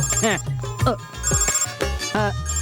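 A telephone bell rings in repeated bursts amid indoor room sound, fairly loud and close.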